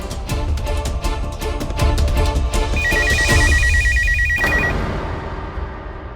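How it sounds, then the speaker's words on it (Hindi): A telephone rings in repeated electronic trills over a loud, busy background of music-like tones, then the ringing cuts off near the end. "मिसेस पारिक का फोन है।"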